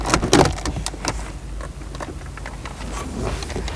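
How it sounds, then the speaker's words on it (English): Plastic climate control panel being pried and pulled free from the dashboard of a 2015-2017 Subaru Outback, with a cluster of close clicks and rattles at the start followed by quieter scattered creaks and taps. "we can reach under the climate control panel and free it from the vehicle"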